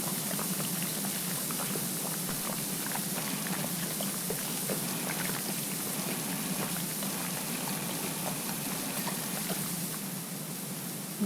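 Steady hissing spray of a pressure washer cleaning a tyre in PowerWash Simulator, continuous and even for the whole stretch, with no voices over it.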